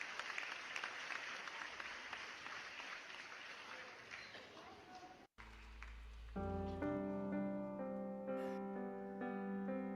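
A church congregation at a children's Sunday worship service claps steadily for several seconds, then falls quiet as instrumental music starts up.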